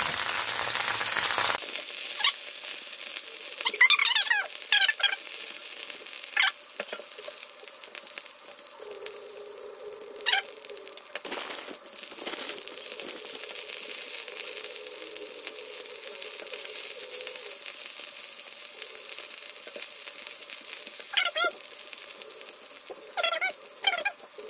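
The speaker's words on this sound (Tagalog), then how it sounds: "magprito na ako ng putput" Putput (sapsap) fish fry in a pan with a continuous crackling sizzle, close and steady, broken by sharper spatters and pops now and then.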